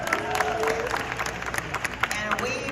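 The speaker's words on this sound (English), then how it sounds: "So give her a hand clap." Crowd applause at a reparations rally in Chicago, brisk scattered clapping with some cheering, fairly close and ongoing, with voices mixed in among the crowd.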